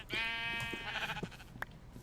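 Sheep in Minecraft (FTB Resurrection modpack) bleat in a clear, wavering game sound effect, one long bleat followed by softer overlapping bleats and small clicks, close and prominent without talk.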